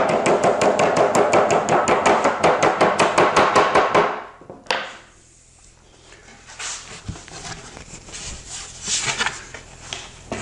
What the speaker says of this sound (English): a rubber mallet to tap that strip into place